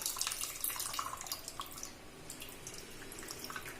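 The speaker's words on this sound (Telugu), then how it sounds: "దీన్ని బాగా మెత్తగా చేసుకుని దీని వాటర్ మనం ఈ వెజిటేబుల్స్లో వేసుకోవాలండి" Tamarind water is poured into vegetables, making a close, splashing, trickling flow that is strongest at the start and then settles into softer dribbling.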